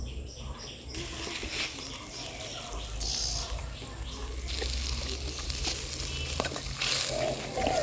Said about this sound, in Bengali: রসুন ভাজা হয়ে গেছে এখন দিয়ে দিল পেঁয়াজ বাটা